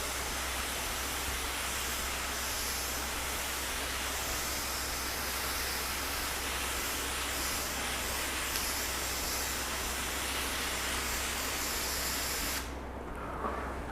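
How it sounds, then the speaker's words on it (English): A garden hose on a mist setting sprays steadily over a car panel, a continuous even hiss held for most of the clip before it abruptly stops near the end. "let's just put the hose into a mist function. So we're gonna just go over the entire panel."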